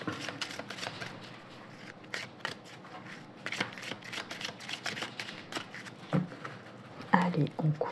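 Playing cards are shuffled and cut for a tarot-style card reading, a quick run of crisp riffling snaps and flicks at close range, ending in a few heavier slaps as the deck is cut.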